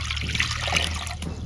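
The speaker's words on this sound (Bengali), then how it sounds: "এই দেখো পানি দিয়ে দিলাম" Water pours into a cooking pot over a lit village stove, a short continuous splashing trickle heard up close.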